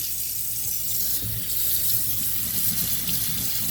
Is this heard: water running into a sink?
yes